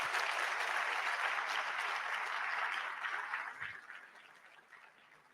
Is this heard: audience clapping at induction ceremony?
yes